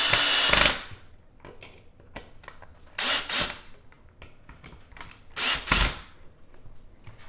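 A power drill bores a hole into a clamped wood block, with three loud bursts of drilling separated by quieter mechanical clicks and handling noise, close to the microphone and without speech.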